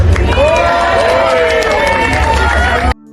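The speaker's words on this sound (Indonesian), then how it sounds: "Jokowi kembali disambut tepuk tangan." A crowd at a Jokowi speech breaks into loud, sustained cheering and applause with shouting voices throughout, close and dense, then cuts off abruptly near the end.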